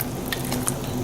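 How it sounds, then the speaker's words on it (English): Zucchini is stirred into a Kung Pao chicken stir-fry in a hot pan, a brief steady sizzle with a few soft scraping clicks. "We'll stir these zucchini in."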